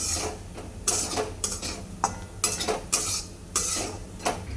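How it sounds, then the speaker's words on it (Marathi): Peanuts and chili powder roast in a pan while a spoon stirs and scrapes repeatedly, giving a series of sharp metallic scrapes over a faint sizzle, close by. "हे भाजत आहे तो शेंगण्याचं तूर आणि मिरची भाजत आहे"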